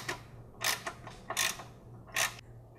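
Ratchet clicks in three short close bursts as sway bar bolts are backed out on a Volkswagen MK7 GTI rear suspension, with a steady low hum beneath.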